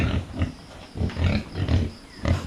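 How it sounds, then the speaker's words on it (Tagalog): Large native pigs in a farm pen grunt in a rhythmic series of close, low, throaty pulses, about five or six bursts in quick succession. "Yan mga kambal, malaki na po yung baboy."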